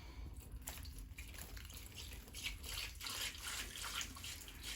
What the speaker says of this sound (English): put it in one of the tubes here, or one of the holes in the tube, and then just put my water in.